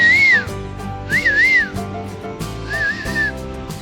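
A person whistles three rising-and-falling warbling phrases, loud and close, over a steady background of machine hum and music-like tones.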